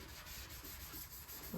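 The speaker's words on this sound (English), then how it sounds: "I'm just giving it a nice etch all over." A used red Scotch-Brite pad scrubs over soapy painted bodywork to scuff and etch the surface, a close, continuous rough rubbing with no voices.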